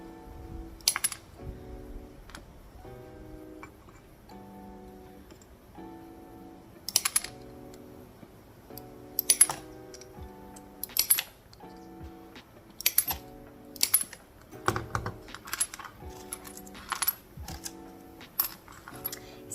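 Stained glass sticks being cut diagonally into sunflower mosaic pieces: a series of sharp, close snaps and clicks in uneven clusters, with quiet handling between cuts and no talking.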